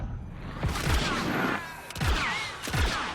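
Blaster gunfire in a Star Wars Outlaws shootout rings out in several sharp bursts, with three or four punchy shots spaced about a second apart over a loud ambient bed.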